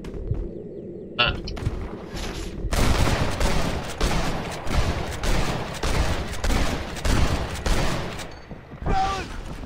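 Red Dead Redemption shootout with rustlers: a sustained rapid volley of loud close gunshots, cracking shots overlapping for several seconds, with a voice at the start and another at the end.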